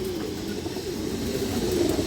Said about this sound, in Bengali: খুবই সুন্দর একটা কবুতর দর্শক